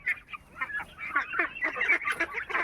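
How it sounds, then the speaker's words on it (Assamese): Assamese pati duck ducklings peeping and calling in a busy, overlapping chorus, close and fairly soft, with rapid repeated high calls and no talk. "এইবিলাক অৰিজিনেল পাতি হাঁহৰ পোৱালি"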